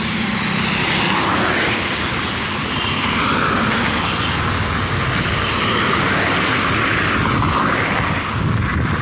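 Dense, continuous road traffic noise on a busy bridge over the Beki river, many vehicles passing in a steady loud roar with engine rumble throughout and no talk.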